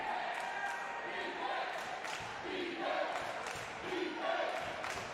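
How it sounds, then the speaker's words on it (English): A wrestling arena crowd chants the initials BK during a match, a loud, dense wash of voices swelling in rhythmic bursts that echo through the hall, with commentary running over the top. "And now the crowd shouting BK. It's resonating through the whole arena."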